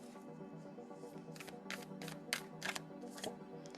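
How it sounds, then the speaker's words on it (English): A deck of oracle cards is shuffled in a series of quick riffling flutters, soft and close, with a faint steady hum underneath. "I'm going to shuffle them again."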